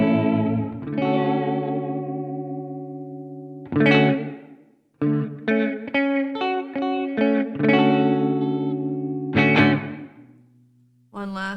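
An electric guitar plays through a NativeAudio Ghost Ridge plate reverb pedal with the modulation fully up: wavering, chorus-like sustained chords, then a run of short plucked notes and stabs with shimmering tails.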